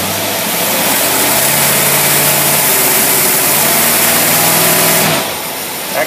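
Carter AFB four-barrel carburetor on a car engine running in gear under a heavy load, a loud steady drone with sustained low harmonics that eases off near the end.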